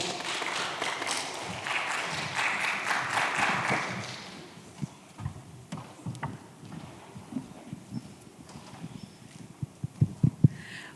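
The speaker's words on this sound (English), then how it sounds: "Let's welcome our panelists with a big round of applause" An audience at an education conference panel applauds to welcome the panelists, a burst of clapping that fades after about four seconds into quieter room noise with a few scattered knocks and footsteps.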